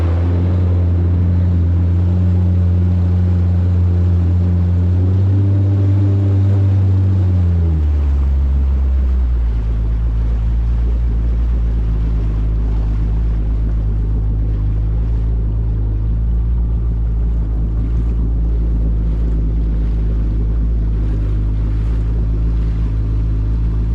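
Jet ski ridden solo up Effingham Inlet, its engine loud and close, a steady droning roar that drops in pitch after a few seconds and then holds steady, with wind and water rushing over it.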